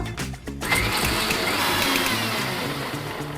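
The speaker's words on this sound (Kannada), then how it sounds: "ಈಗ ಇದನ್ನ ರುಬ್ಕೊಳ್ಳೋಣ" A mixer grinder whirs steadily as it grinds coconut into a paste for mutton pulao, with a brief pause before the sustained motor drone settles in. The whir is close and fairly loud, with no talking over it.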